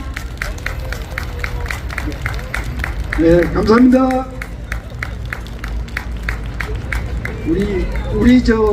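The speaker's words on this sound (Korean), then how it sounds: "큰 박수로 맞이해 주시기 바랍니다." Steady applause from a crowd at a political rally fills the room, with someone speaking briefly over the clapping near the middle and again toward the end.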